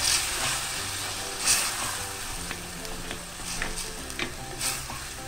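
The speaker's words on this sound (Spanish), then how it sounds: "E igual vamos a dejar que se sofría aún más." Chopped onion and tomato frying in oil in a pan for a Spanish veal fricandó, a steady close sizzle and crackle throughout with occasional brief stirring clicks.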